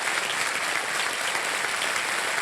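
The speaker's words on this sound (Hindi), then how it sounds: "320 पर इनको ताली बज जाए" A studio audience at a TV quiz show applauds steadily for the whole stretch, a dense, even wash of clapping with no voices standing out.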